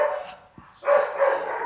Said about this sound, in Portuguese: Cachorro tá latindo.